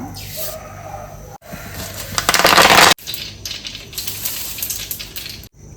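Mustard seeds crackle and sizzle in hot oil for a chivda of thin poha, with fried chilies and garlic already in the pan, a close, busy spatter that surges loud in the middle and then settles.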